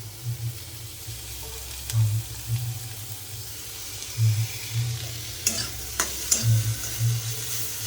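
Onion and vegetables sautéing in a pan, a soft continuous sizzle with a steady low hum beneath and occasional sharp clinks of a utensil stirring, close by and unaccompanied by speech.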